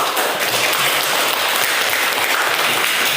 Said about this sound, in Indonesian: Coba kasih aplaus dulu